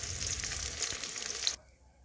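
Chicken pieces frying in hot oil for chili chicken give a steady, fairly loud crackling sizzle that cuts off abruptly near the end, leaving faint quiet.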